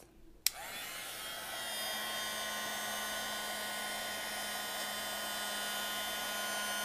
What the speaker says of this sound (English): you just slowly move the embossing tool over the Liquid Applique.